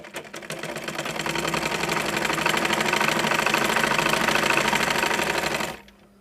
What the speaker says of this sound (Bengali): কাপড় ভাজ করে আবার এই সেলাইটা দিয়ে নেব